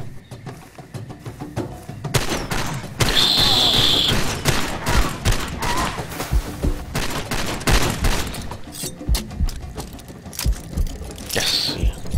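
Sustained bursts of enemy automatic gunfire in Far Cry 2, loud and close, crackling volleys repeating over about ten seconds with brief pauses between them.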